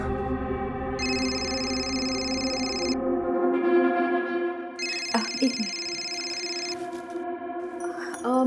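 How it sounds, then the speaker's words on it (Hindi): An electronic ringtone plays a repeating melodic pattern, loud and close, with someone briefly speaking near the end. "तुम्हारा फोन बज रहा है"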